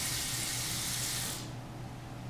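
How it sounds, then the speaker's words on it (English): Warm water runs from a tap into an Instant Pot body for cleaning, a bright, steady hiss of filling that cuts off abruptly partway through, leaving a faint low hum. "you can put in some water as well,"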